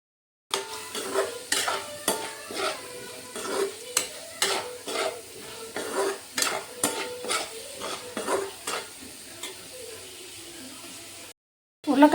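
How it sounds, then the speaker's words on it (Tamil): Potato pieces frying in a pan for a spicy potato dish, with a continuous sizzle and a regular series of sharp spatula scrapes and stirs roughly every half second, close and fairly loud, ending in a short pause. "உருளைக்கிழங்கு நல்லா ஃப்ரை ஆகட்டும்"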